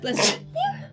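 A single close sneeze, a sharp breathy burst followed by a brief voiced trailing sound.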